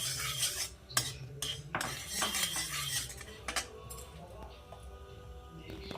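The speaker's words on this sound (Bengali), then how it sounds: "এবার ড্রাই ফ্রুটসগুলো ভাজার পরে আমি সুজিটাও এর মধ্যে ভেজে নেব।" A metal spoon stirs semolina frying in ghee in a pan for bottle gourd payesh, giving irregular scraping and clinking strokes close up, with a voice talking over part of it.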